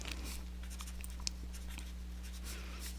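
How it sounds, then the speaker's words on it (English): Pen scratching quickly across paper while writing out a math solution, soft rapid strokes close by over a steady electrical hum, no voice. "let's write that out"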